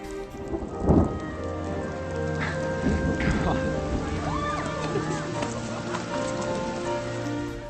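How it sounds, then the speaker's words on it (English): Steady rain pours throughout a romantic night scene in a live-action comedy film, with a loud thunder-like burst near the start and brief spoken lines and music mixed over the downpour. "Sadly, this is where the rain kicks in."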